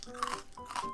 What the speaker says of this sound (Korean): 식감이 바삭바삭하니까 이거 너무 괜찮다.